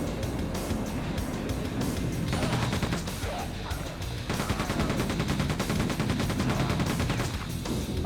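Continuous rapid rifle fire in Quake II, dense overlapping shots with crashing impacts filling the whole stretch at steady loudness, no talk over it.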